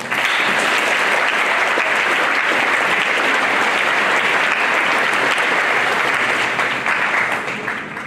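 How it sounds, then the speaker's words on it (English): Audience at a college Constitution Day program giving a big, loud, sustained round of applause, dense and even throughout before tapering slightly at the very end, with no voices heard. "So let's give a big round of applause for Mr. Barry Emerson."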